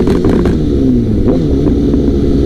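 A liter-class sport motorcycle engine accelerates with a loud, continuous low drone whose pitch shifts as the throttle works, close by and unbroken from start to finish.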